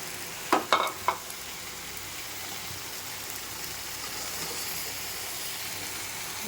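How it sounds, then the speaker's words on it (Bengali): A hot pan of mango pickle with melted sugar sizzles and hisses steadily at a moderate level, opening with a few sharp scraping knocks of stirring before settling into an even bubble. "নাড়তে হবে কিছু সময়। চিনি দেওয়ার পরে চিনি গলে আমের সাথে মিশে গেছে।"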